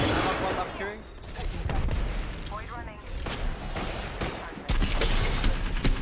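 A grenade blast in the battle royale game Apex Legends goes off among rapid gunfire and booms, loud and close, with a player shouting excitedly over the chaotic firefight.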